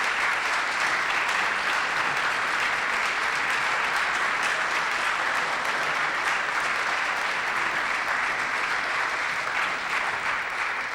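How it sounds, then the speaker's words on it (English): Sustained, dense applause from an audience at a town's 225th anniversary celebration honoring the musicians, a steady even roar of clapping filling the room from start to finish. "join me in a round of applause for their efforts and"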